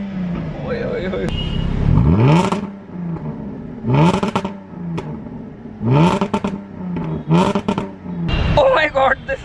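A Maybach car engine revs loudly, with four or five strong, rising bursts of throttle a second or two apart. Each ends in a whoosh, and excited voices are heard between the revs.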